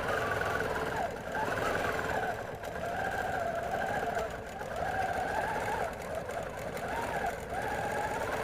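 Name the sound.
sewing machine stitching fabric layers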